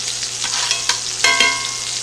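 Steak searing in a pan after being flipped to show a crusty browned side, a steady close sizzle and frying hiss running throughout with a few brighter crackles and pops.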